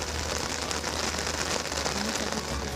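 Heavy monsoon rain in India falls steadily, a constant pattering roar on surfaces with a faint low rumble underneath.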